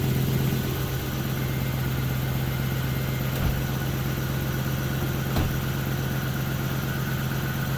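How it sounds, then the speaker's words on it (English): A 1990-1994 Lexus LS400 engine idles steadily with a low, constant hum and a faint high squeal from squeaky belts running throughout, plus a couple of brief clicks. "Belts are a little squeaky"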